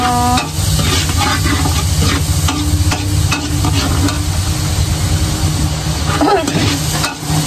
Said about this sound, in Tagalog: Igisa muna natin ang pork.